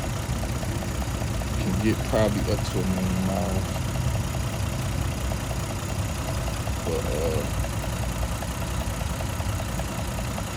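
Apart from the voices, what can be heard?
2002 Toyota Camry XLE V6 engine idling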